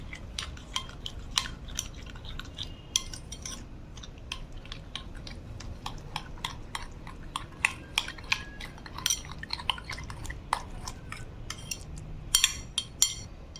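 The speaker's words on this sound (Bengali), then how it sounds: "এখন আমি সবগুলো ইনগ্রিডিয়েন্টস একসাথে মিক্স করে নেব" Ingredients including cheese and red chili powder being stirred together in a bowl for cheese beguni, with many quick clinks and scrapes of a utensil against the bowl, steady and close.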